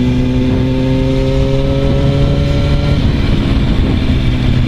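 A Yamaha R1 one-litre sports motorcycle under way gives a loud, continuous engine drone with tonal harmonics whose pitch dips slightly partway through, heard close with steady wind noise.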